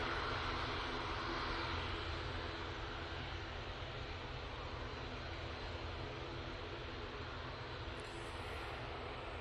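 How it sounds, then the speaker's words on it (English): A Turkish Airlines Boeing 737-800 on short final makes a steady, broad jet roar heard at a distance, with a deep low rumble and a faint hiss above it that hold without break. "Turkish 737, and now on short final for 2-3 right, using the 737-800 for this flight"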